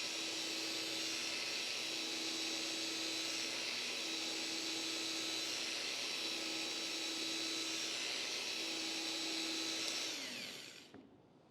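Machine polisher buffing car paint, a steady close whirring motor hum that holds for about ten seconds before winding down and fading out at the end.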